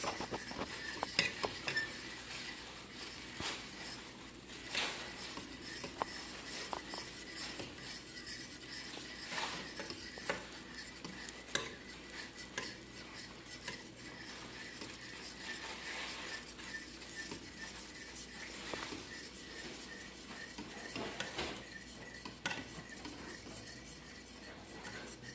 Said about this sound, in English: Stirring. stirring constantly. Do not stop stirring, even if your arm's about to fall off.